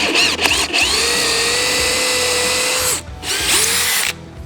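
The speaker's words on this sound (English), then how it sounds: "we're gonna put it in a handheld drill because we're only cutting one" Handheld drill fitted with a plug cutter boring a plug out of maple, a close, loud high whine with a grinding cutting rasp that stops briefly, spins up again, then cuts off.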